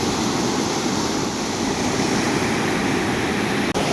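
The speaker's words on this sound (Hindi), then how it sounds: "बहुत ही तेज है नदी का बहाव एंड रिवर पता नहीं कहाँ से आ रही है, बहुत दूर से।" A fast, cold mountain river rushes over rocks near Chopta in the Himalayas, a loud, steady roar of churning water that fills the whole clip without pause.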